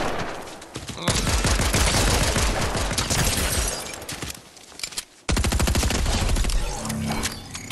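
A golden SMG in Fortnite rattles off rapid, close bursts of automatic fire, with a brief pause midway before a second burst, the shots loud and dense.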